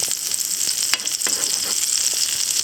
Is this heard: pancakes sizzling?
yes